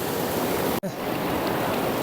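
Icy mountain water rushes steadily near Chitkul, a village high in the Himalayas, as a continuous broadband roar that cuts out briefly for a moment before carrying on.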